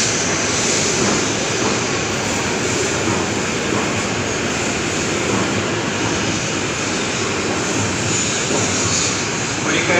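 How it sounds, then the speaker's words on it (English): Shinkansen train arriving at platform 22 at Tokyo station, a steady broad rushing hum of the approaching train, moderately loud, with station ambience around it. "Empty train arriving into platform 22."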